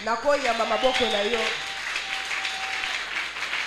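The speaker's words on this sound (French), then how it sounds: "Je peux recevoir tes acclamations." Congregation at a Sunday church service: a loud voice rings out at first, then cheering and applause spread into a steady, moderately loud crowd noise for the rest of the moment.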